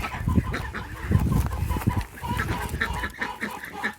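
Several hens cluck steadily nearby, overlapping soft rhythmic clucks with occasional louder calls, no talking.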